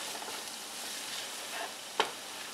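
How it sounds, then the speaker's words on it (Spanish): Beef browns in a pan, a soft steady sizzle of frying meat with a brief sharp clink or stir near the end, fairly quiet and without voices. "Quiero que se me dore un poquito la carne junto con los sabores aquí."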